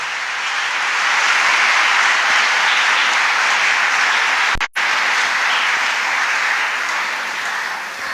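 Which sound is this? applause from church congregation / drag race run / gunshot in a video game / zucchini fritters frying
applause from church congregation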